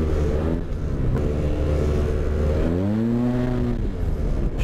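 Yamaha TMAX 530 ABS scooter under way, its engine droning steadily with exhaust note and wind rush, then a clear rising rev as the rider opens the throttle, close and loud throughout.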